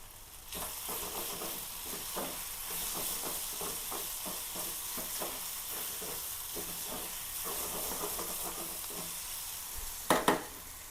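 Onion, green chili, ginger and garlic sautéing in a pan give a steady, close sizzle with rhythmic stirring scrapes throughout, and a sharper clatter of utensils near the end.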